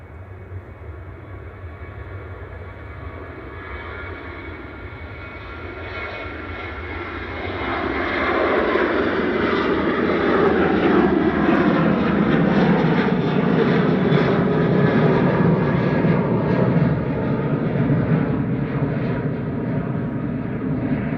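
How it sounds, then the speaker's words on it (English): A Ryanair Boeing 737-800 takes off from Manchester Airport for Dublin; a low, quieter engine rumble surges at about eight seconds into a loud, sustained takeoff roar, no voices. "Flight 553 to Dublin going next. Ryanair. This is a 737-800"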